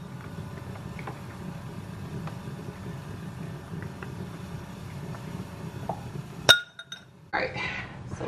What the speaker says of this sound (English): Add my ice cubes.